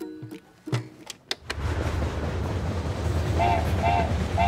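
A passing train rumbles continuously after a few brief knocks at the start, with a steady low roar that builds and holds, and faint horn-like tones appear near the end.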